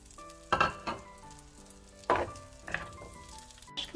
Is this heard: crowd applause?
no